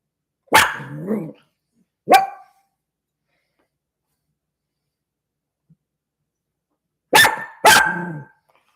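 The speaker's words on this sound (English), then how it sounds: "What's she barking at?" A dog barks in four sharp bursts, a pair of barks, a long pause, then two more in quick succession, fairly close and loud against silence.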